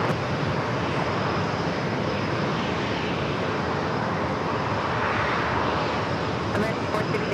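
An airplane arrives at San Diego airport as a steady, loud jet roar, with a broad wash of engine noise holding through the whole stretch.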